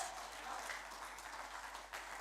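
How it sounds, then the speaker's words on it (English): A church congregation claps steadily as an offering to the Lord, a dense, continuous wash of many hands applauding together without pause. "Give a clap offering to the Lord."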